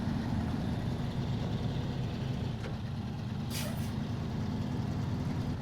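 A steady rumbling truck engine idles throughout in the video game SnowRunner, and a short high-pitched air brake hiss breaks in partway through.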